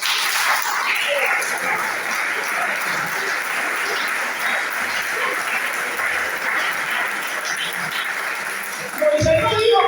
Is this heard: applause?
yes